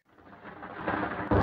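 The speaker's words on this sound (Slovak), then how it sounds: "Na to hrom vyslal svoj blesk." Thunder from a lightning strike in a fairy tale, a rumble that swells up from silence and builds in loudness before a heavier crack near the end, heard alone.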